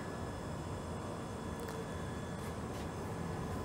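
KanchanKanya Express, Sealdah to Siliguri, running at night after leaving Bolpur Shantiniketan station, a steady broadband rumble and rattle of the moving carriage, continuous and fairly faint, with no talk.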